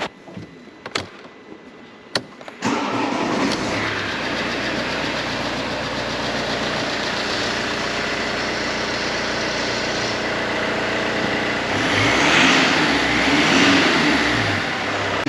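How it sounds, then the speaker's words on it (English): Mercedes C220 CDI diesel engine cranks and catches after a few clicks, then settles into a steady, loud, close-up idle with a rough clatter that swells slightly near the end. "So if we start the vehicle,"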